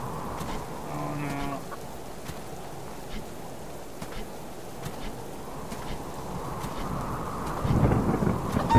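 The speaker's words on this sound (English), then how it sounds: "Two chickens!" Chickens clucking in the survival video game Subsistence, a few short clucks near the start over a steady wind-like outdoor ambience, with a rustling burst toward the end.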